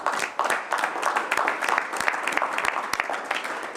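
Applause from an audience at a tribal council meeting, a dense sustained patter of many hands clapping throughout, with a few louder individual claps standing out near the front.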